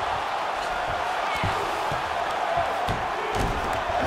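Arena crowd roaring steadily through a UFC 2 fight between Jose Aldo and John Judy, a dense continuous wash of cheering at even loudness with scattered louder bursts.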